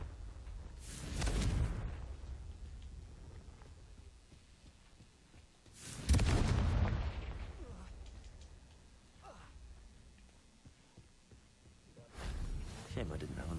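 Three booming spell explosions in a Harry Potter video game, each a loud burst that fades over a couple of seconds, spaced about five seconds apart with quiet between.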